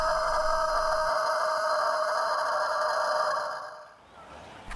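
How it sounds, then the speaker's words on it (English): A rooster lets out a long, loud cock-a-doodle-doo that trails off near the end, with no one speaking. "crow, or cock-a-doodle-doo, is the sound that a rooster makes in the morning"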